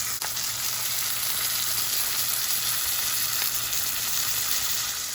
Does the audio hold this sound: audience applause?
no